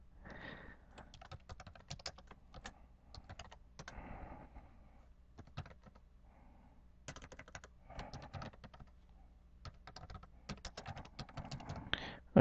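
Keys clatter on a computer keyboard as a username and password are typed into a Windows Server 2003 user account form, coming in quick irregular bursts with short pauses, close up and moderately quiet.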